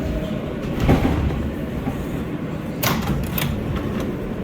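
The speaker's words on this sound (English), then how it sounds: "That propulsion though, when the train slows down," An R143 subway car on New York's L line slows down, its propulsion giving off a steady rumbling drone with a couple of sharp clanks along the way.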